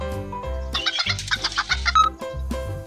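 Hen clucking in short repeated bursts over a steady musical background, fairly close and clear.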